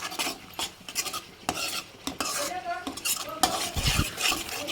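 A spoon stirs and scrapes puliyogare tempering around a pan in steady, busy strokes, with clinking against metal and a faint sizzle underneath.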